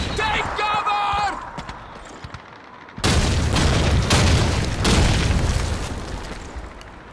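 A grenade in the video game Call of Duty 2 goes off with a loud, sudden boom that turns into a long, rumbling roar of blast and debris. Busy game sounds come before it.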